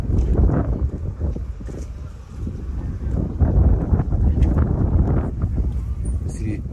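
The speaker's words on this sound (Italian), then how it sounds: "c'è caldo, ma c'è questo vento che comunque ti aiuta" Warm wind on Sal island in Cape Verde buffets the microphone with a steady, loud, low rumble and gusts throughout.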